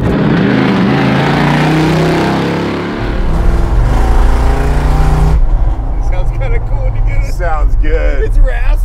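A slammed 1956 Chevy truck's engine with a raspy custom stainless exhaust rumbles loudly and steadily, with people talking over it partway through.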